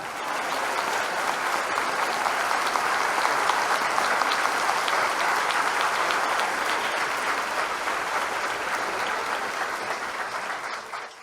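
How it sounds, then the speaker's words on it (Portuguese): A church congregation at a Bible study service claps together in a loud, dense, continuous round of applause lasting the whole stretch, tapering only at the very end. "Uma salva de palmas para o nosso Deus da glória."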